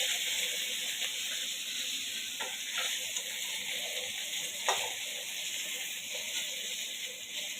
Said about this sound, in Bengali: আমার মাছ ভাজাটা হয়ে গেছে